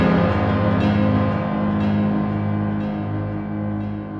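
A bouncy pitched-percussion synth preset from BBO Fornax with a fast delay on top, rapid repeating plucked notes over a steady sustained tone, even and fairly loud throughout.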